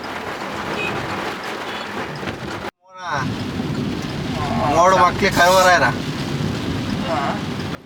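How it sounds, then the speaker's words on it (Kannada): Heavy rain pours steadily with rumbling thunder and gusting wind on a road journey from Chitradurga to Dharmasthala, a dense, loud wash broken by a brief dropout; people talk over it throughout. "ನಿಜವಾಗ್ಲೂ ದೊಡ್ಡದಾಗಿ ಮಳೆ ಬೀಳ್ತಾ ಇದೆ"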